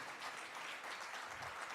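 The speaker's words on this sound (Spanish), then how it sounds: "Damos un fuerte aplauso a nuestros hermanos." Short burst of congregational clapping inside a church, a steady soft patter heard at a distance and fairly faint, with no voices over it.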